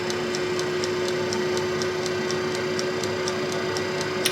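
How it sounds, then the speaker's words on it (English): The timer on an Ambiano 17L halogen air fryer ticks in a steady, even rhythm over a constant humming fan, heard close and alone. "You can hear the timer ticking."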